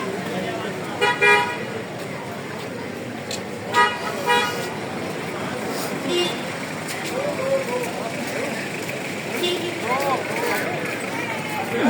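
Queues of cars crawl along Mall Road in Murree on a cold January night, with the hum of traffic and several short horn toots sounding over steady voices and engine noise.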